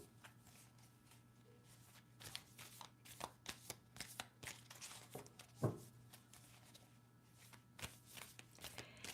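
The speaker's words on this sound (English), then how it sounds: "Did I shuffle 3 times already?" A deck of cards is shuffled by hand indoors during a live tarot reading, with soft riffling and tapping bursts repeating over a steady background hum.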